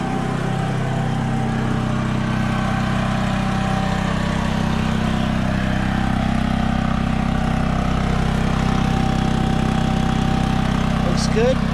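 A generator engine idles just after an oil change with a steady close mechanical hum and drone that stays level for the whole stretch, with a person speaking over it.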